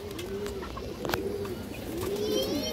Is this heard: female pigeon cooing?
yes